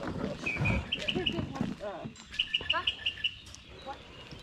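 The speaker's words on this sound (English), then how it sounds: "Lots of birds this morning." Several birds chirp and tweet in short repeated bursts on a morning at a yard sale, with people talking in the background throughout.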